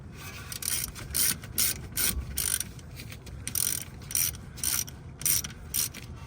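Ratchet with a 12mm socket tightening brake caliper bolts on a 2006 Honda Accord, a series of quick rapid clicking bursts in a regular on-off rhythm, close and clear with no talk.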